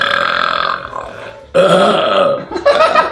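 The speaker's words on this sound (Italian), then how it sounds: "Ah, io ho un rutto." A loud, drawn-out human burp with a guttural, voiced quality, cut by a short break and then resuming in a second rough belch, with no talking over it.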